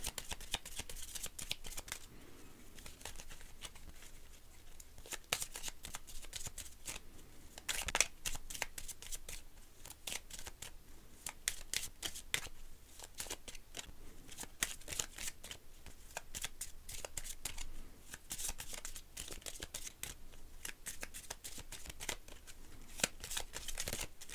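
Petit Lenormand fortune-telling cards are shuffled by hand at close range, a continuous quiet riffling and flicking with occasional sharper snaps, no voice over it.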